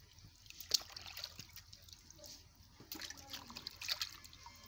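A freshly killed fish is washed in water, producing faint, intermittent splashes and drips close by in an otherwise quiet space.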